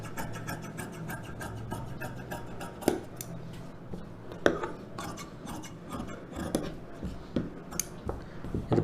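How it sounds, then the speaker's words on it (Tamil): Scissors cut silk cotton blouse fabric to shape with a steady series of soft snips and rustling, with a few sharper clicks, all fairly quiet and close. "இந்த ஷேப்புக்கு அப்படியே கட் பண்ணிவிடுங்க."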